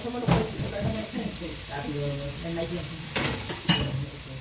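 Pakbet with bagoong gets stirred in a cooking pan, the utensil scraping and clinking against the metal in irregular strokes over a soft sizzle while people talk nearby.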